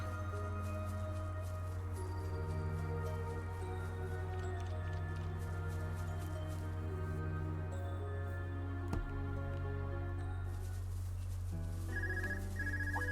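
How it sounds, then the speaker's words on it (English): A phone rings in the video game Trails of Cold Steel IV, a steady electronic ringtone that repeats continuously over layered game music, with no talking. "Oh, phone call."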